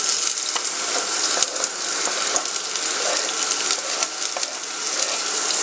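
Chopped garlic sizzles in a frying pan while a chicken curry is cooked. A steady, bright hiss of hot oil fills the whole stretch at an even level, with occasional small pops and no talking.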